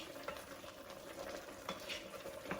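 Garlic pieces being crushed and stirred in a cooking pot while oxtail cooks, with a steady sizzle and soft scraping taps throughout, moderately quiet and close, no voices.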